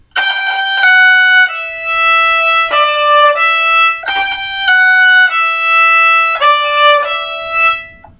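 Violin playing a measure slowly, a series of sustained bowed notes that step between pitches in a steady, deliberate rhythm, clear and close with no talking.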